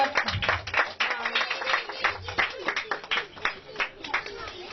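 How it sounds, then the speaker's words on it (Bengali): An audience applauds at a felicitation ceremony during a Jagannath Rath Yatra puja celebration, with steady, dense clapping that runs throughout, along with crowd murmur. "করতালি"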